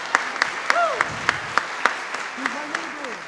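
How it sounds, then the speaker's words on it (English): High school jazz band concert audience applauding a tenor saxophone soloist, a spread of claps with several sharp individual hits, while voices call out and talk over the clapping. "another round of applause for our good friend Benjamin Small on the tenor saxophone"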